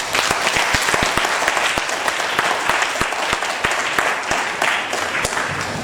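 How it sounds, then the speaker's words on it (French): A crowd at a civil wedding ceremony breaks into applause, dense continuous clapping with sharp individual claps standing out, close and fairly loud throughout. "C'est votre applaudissement."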